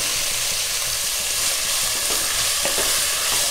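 Beans and carrots being stir-fried in a pan for Schezwan noodles give a steady, dense sizzle with scraping stir strokes running through the whole stretch, close and fairly loud.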